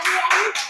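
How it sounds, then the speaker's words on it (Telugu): Children clapping together in a classroom during a maths lesson, a short burst of quick, close hand claps with a voice rising over the rhythm. "క్లాప్స్ కొట్టండి."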